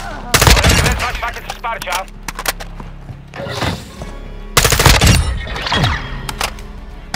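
Loud, dense gunfire in the video game Call of Duty Modern Warfare II: rapid automatic bursts and heavy impacts in a chaotic firefight, with game voices speaking over the shooting.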